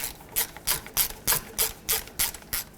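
Engine mount bolts on a 2007-2014 Cadillac Escalade being run down with a ratchet, about nine quick clicking bursts in a steady rhythm, close and clear, with no voices.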